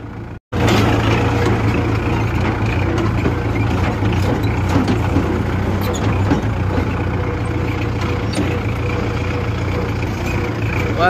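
A Kubota MU4501 tractor engine runs steadily after a brief gap at the start, a loud continuous low rumble with mechanical rattling out in a harvested paddy field.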